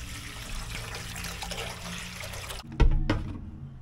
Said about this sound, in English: Okay, put some water.